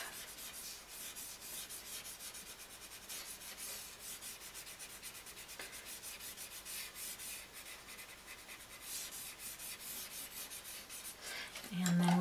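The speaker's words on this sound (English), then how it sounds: "we can use our tortillon to smooth that out" A paper stump is rubbed back and forth across pencil shading on paper, a soft continuous close-up scraping and brushing that runs steadily throughout with no talk.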